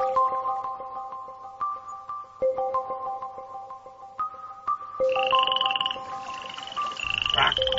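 Frogs croak in repeated, rhythmic pulses, loud and close, as part of a radio drama about a frog king and a snake, with a brighter chirping call joining in partway through.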